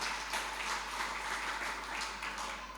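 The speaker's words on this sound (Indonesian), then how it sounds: "Kasih tepuk tangan bagi Tuhan" A church congregation at a Good Friday service claps together in a steady, fairly faint patter of applause over a low constant hum.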